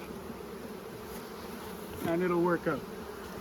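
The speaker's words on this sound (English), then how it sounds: "I figure 3/4 of the bees that I shook in there will fly back" Honey bees freshly shaken into a hive hum in a dense, close drone that swells louder near the end, while someone speaks briefly over it.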